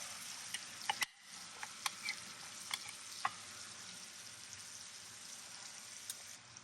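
Food searing in browned butter in a pan crackles with a steady close sizzle, dotted with small pops and one sharp clink near the start.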